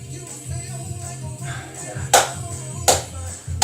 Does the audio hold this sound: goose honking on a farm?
no